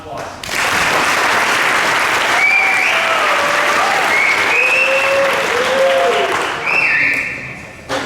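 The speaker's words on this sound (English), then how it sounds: "Let's give them a round of applause." A football awards banquet audience breaks into sustained, loud applause that runs the whole stretch, with some cheering and whistles rising over the clapping.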